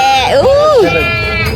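A goat lets out one loud, close, wavering bleat lasting under a second, with voices and light crowd noise around it.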